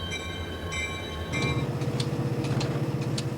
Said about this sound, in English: A new crew comes aboard, and the train moves on.